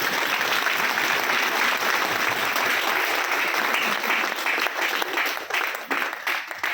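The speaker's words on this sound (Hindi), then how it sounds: "तो मैं चाहूँगा कि अपने लिए एक बार जोरदार ताली बजाएं।" Loud, sustained applause from a large audience at a business gathering, a dense wash of clapping that holds steady throughout and starts to thin slightly near the end.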